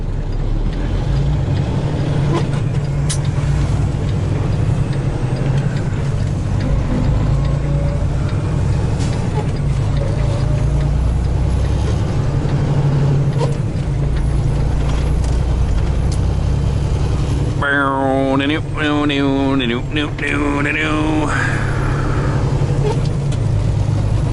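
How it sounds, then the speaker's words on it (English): Traffic moving off from a traffic light, with cars and trucks passing a waiting truck cab as a steady loud road roar, plus a brief whining tonal engine or brake sound near the end. "Here comes all the cars."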